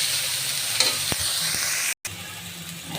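Onions sizzle in a hot pan with salt while a fish curry with potato and tomato gets started, a steady close frying hiss with a few stirring clicks and one brief dropout.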